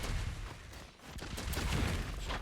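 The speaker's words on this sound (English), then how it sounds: "the cannon shots are going to start coming in" Cannon shots in a battle royale video game, a dense rolling barrage of booming blasts and crackling impacts that keeps up loudly throughout.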